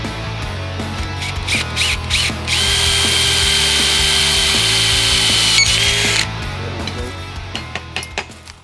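A power drill bores a hole in the metal frame of a homemade drift trike, revving up into a loud sustained whine for several seconds, framed by clinks and handling knocks from the workshop.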